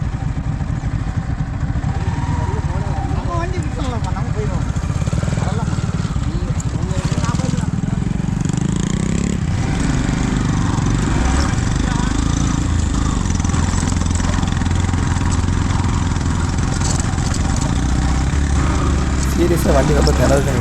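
A struggling vehicle engine labours on a muddy dirt road near Anaikatti and Attappadi outside Coimbatore, a continuous loud drone that shifts in pitch as it strains, with someone talking over it throughout.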